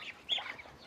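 Black-headed ducklings placed in with their mother hens give a quiet chorus of short peeps and quacking calls, faint and close, with no talking.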